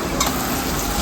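Chicken pieces frying in a pan for a chicken curry seasoned with turmeric, giving a steady, even sizzle throughout with no voices.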